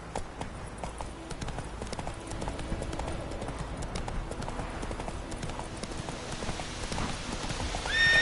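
Hooves clip-clop in a steady, fast rhythm as Geralt's horse Roach gallops in The Witcher 3, under a continuous noisy wash resembling wind or rain, with a brief tonal sound near the end.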